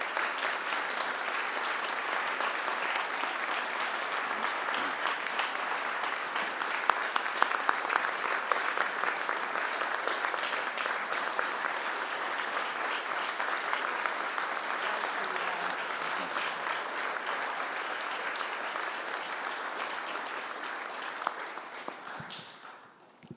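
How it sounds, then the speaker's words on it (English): A long, steady round of applause from an audience at a tribute event for a U.S. Air Force major, welcoming a speaker; dense even clapping holds throughout before tapering off at the end. "please give her a rounding applause and welcome to her here"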